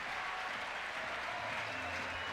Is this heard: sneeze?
no